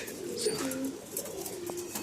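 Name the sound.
pigeons cooing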